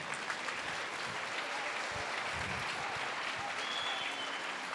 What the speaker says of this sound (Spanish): Ahora dele una ofrenda de palmas a Jesús.